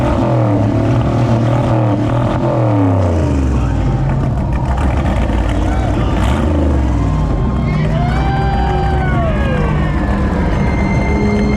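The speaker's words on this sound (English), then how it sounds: "so Alan can show you guys what his car does" Mad Max Humungus replica car engine revving loudly and continuously, pitch sweeping up and down, mixed with crowd chatter and another played-back engine-like sound snippet.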